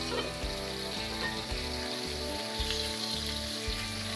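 Salmon frying in plenty of oil in a pan, a steady close sizzle and crackle with occasional spitting pops, continuous and fairly quiet.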